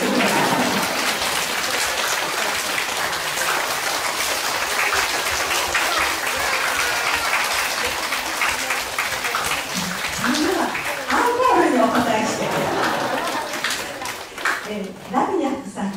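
Sustained applause from a concert audience at a piano recital fills the room, dense and steady throughout, with some voices rising briefly near the end.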